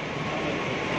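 A KRL electric commuter train at Solo Balapan station, a continuous loud broadband rumble with no voices.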